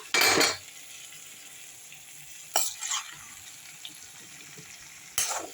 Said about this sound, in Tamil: கத்திரிக்காய் வதங்கிடுச்சு ஆனால் முருங்கைக்காய் இன்னும் ஒரு ரெண்டு நிமிஷம் வதங்கணுங்க